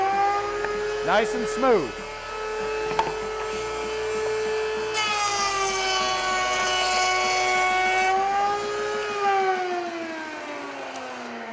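A router cuts a round-over profile along a board edge while building drawer boxes, a steady high whine that rises into a loud sustained cutting roar for a few seconds, with a person talking briefly near the start.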